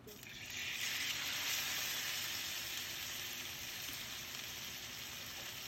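Pork strips coated in cornstarch paste hit hot oil in a wok, bursting into a loud, steady sizzle that swells quickly then holds as a continuous hiss.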